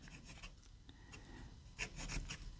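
Platinum Procyon fountain pen nib scratching across Rhodia paper in a quiet room, a soft, close, continuous papery rasp with a few brighter stroke accents near the end.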